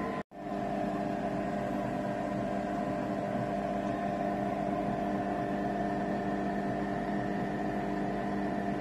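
A Thermocook Essential cooker runs at speed 2 and 90 degrees on low power while cooking porridge, giving a steady, even motor hum with a constant whine, unbroken throughout after a brief click at the start.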